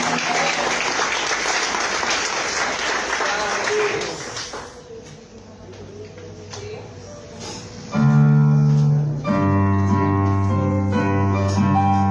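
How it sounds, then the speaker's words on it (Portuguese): Congregation applauding during an evangelical church celebration service, dense clapping that fades after a few seconds, then sustained organ or keyboard chords and tones take over loudly. "Você pode aplaudir o Senhor?"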